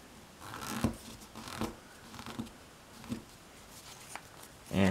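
Paper being creased and folded into an origami star box, heard close up as a series of soft crinkles and scraping creases at irregular intervals, ending in a louder rustle.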